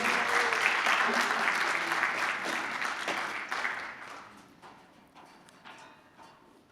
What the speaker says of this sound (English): can we give a round of applause to Karen and Jane, please?